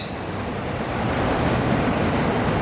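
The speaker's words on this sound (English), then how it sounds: "the waves are quite calm today" Calm ocean waves washing onto a beach on a fine day with a southerly breeze, heard as a steady broadband wash of surf, loud and continuous, with no voices.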